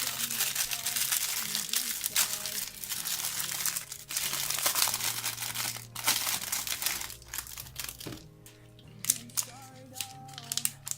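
Crinkling plastic wrap torn off Yu-Gi-Oh Mega Pack 2014 boxes, dense crackling rustles close up with a few sharper crunches near the end, steady throughout with a low hum underneath and no talk.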